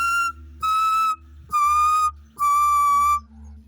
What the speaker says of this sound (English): I will try to demonstrate, so if I succeeded, be aware that this can be loud.